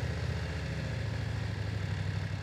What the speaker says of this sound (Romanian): am pornit și eu motocicleta.